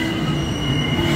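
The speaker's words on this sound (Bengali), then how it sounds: "আমাদের ট্রেনের পরবর্তী হল্ট এলো চালসা।" Tourist Express with Vistadome coach braking to a halt at Chalsa station, a continuous low rumble of rolling wagons with a thin, steady wheel squeal, close and loud.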